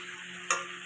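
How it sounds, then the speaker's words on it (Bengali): Tilapia spice paste of ground poppy seed, nuts, cumin, chili and coriander sautés in oil with a soft, steady sizzle and one brief scrape of stirring midway. "তাই একটু কষানো হতে থাক।"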